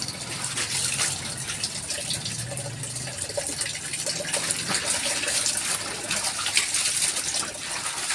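A tap gushes steadily for hand-washing laundry, a continuous near splash of running water with faint sloshing underneath.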